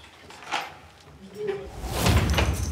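A door is opened during a police intervention in Grenoble after a neighbour assault, giving a muffled thump and scrape with some background noise and voices nearby.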